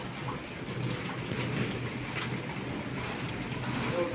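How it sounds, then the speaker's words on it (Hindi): Dense, heavy rain pours steadily with a constant hiss, mixed with a faint rattle of hailstones striking a surface, heard from indoors with doors and windows shut. "ओला, ओले गिर रहे हैं"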